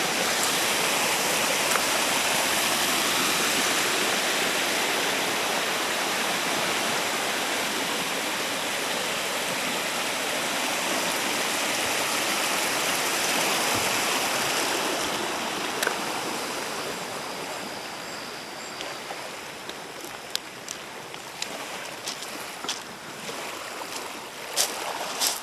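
Waves wash onto the beach at Lake Simcoe in Hawkstone, Ontario, a steady broad rush of water that eases off slightly toward the end, with scattered small knocks and no talk.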